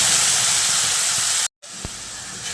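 Tomato and onion paste hits hot oil already frying with dried red chilli for a potato curry, giving a loud, steady sizzling hiss that breaks off briefly, then resumes.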